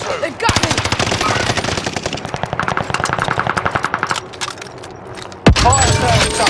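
Gunfire in Call of Duty Warzone on Rebirth Island, a long rapid automatic burst of close, loud shots, then a pause and a sharp heavy blast followed by more firing, with a game voice line heard over the action.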